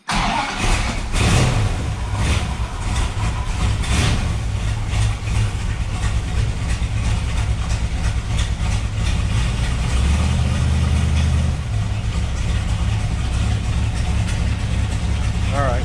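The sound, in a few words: car with a bad clutch throwout bearing, engine idling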